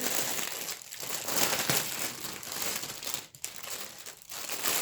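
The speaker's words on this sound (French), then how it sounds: "Ça va être emballé dans du sac plastique." Plastic packaging bag crinkling and crackling continuously while a diamond painting kit is unboxed, close and fairly loud with a few brief pauses.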